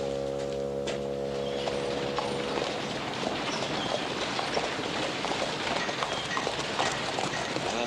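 Hooves clip-clop steadily along with a rumbling wheeled rattle, a continuous rhythmic clatter close by, briefly accompanied by a low droning tone at the start.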